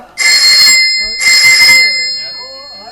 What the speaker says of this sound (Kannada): ಫೋನ್ ಬರ್ತಾ ಇದ್ದೆ ಯಾರು